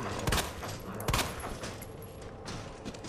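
Gunfire in Resident Evil 2: two sharp, loud shots about a second apart, followed by fainter scattered reports and a low background rumble.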